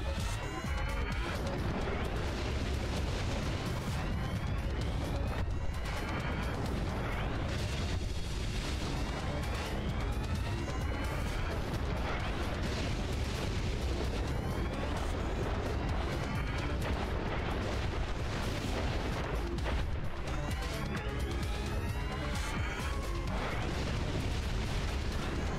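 Rapid gunfire and repeated blasts from an armed drone in the Dave the Diver game fill the whole stretch, a dense, continuous barrage of shots and booms with no pauses.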